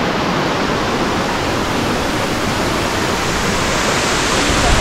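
Waterfall pouring down a mountainside above terraced rice fields, a loud, constant roaring rush of water filling the whole clip without pause or speech.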